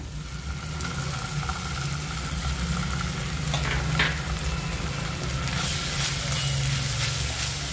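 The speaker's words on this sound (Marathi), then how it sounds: "आता आपण ह्याच्यामध्ये आलं लसूणची पेस्ट घालूया।" Ginger garlic paste fries with tomato for prawn masala gravy, giving a steady, fairly loud sizzle with a low hum beneath and occasional stirring scrapes.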